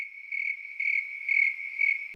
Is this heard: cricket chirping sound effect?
yes